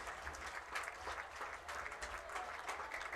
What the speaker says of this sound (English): Please join us in giving a big round of applause to Saunders Medical Center and Rachel Hall.